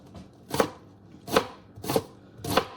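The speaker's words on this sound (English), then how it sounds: "But we're gonna give that a nice rough chop." A knife rough-chopping a halved onion on a cutting board, four distinct sharp chops spaced evenly and close up, with no talking.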